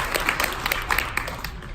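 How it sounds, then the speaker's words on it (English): A school audience claps for Tony before his presentation on Chinese culture and history: dense, steady applause of many hands filling the room, with no voices standing out. "Can we have a round of applause for him?"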